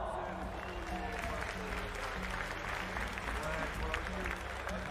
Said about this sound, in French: Donc, sous vos applaudissements, je vous demande d'accueillir Lucille Botrel